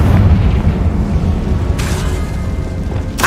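Confringo spell explosions in Hogwarts Legacy, deep loud rumbling booms with two sharp bursts near the end, close and heavy, with no talking.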